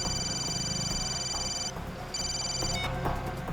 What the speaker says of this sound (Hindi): अभिजीत को फोन करता हूँ।